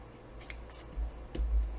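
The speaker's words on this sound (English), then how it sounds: "and then I snip this off" Scissors snip through a paper belly band strip, a couple of close, crisp cuts in a quiet room.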